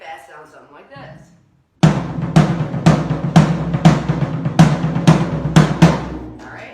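Fast drum solo accent pattern in a drum lesson setting, a steady run of strong rapid tom and snare hits with regular accents, loud and close, after a brief quiet start.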